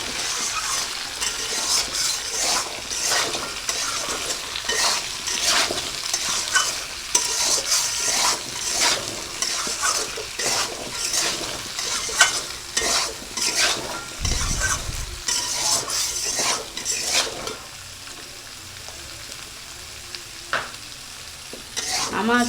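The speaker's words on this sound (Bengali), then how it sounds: "এবার নাড়িয়ে চাড়িয়ে একটু কষা করে নিই" Mixed vegetables with potato and turmeric stirred and fried in a pan for a Bengali vegetable curry: steady close sizzling with repeated scraping strokes of a spatula against the pan, and occasional metallic clinks, no talking.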